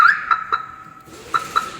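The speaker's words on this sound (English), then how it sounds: "it's got an alarm" Car alarm on a 1990s Honda chirping: several short, sharp electronic tones in an uneven sequence, fairly close, with a faint hum between and no voices.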